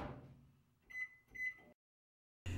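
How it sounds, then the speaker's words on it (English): A microwave oven heats a mixing bowl of wet bread-dough ingredients: two short, quiet electronic beeps over faint hum, then silence. "Next, I'll heat the wet ingredients and mixing bowl in the microwave."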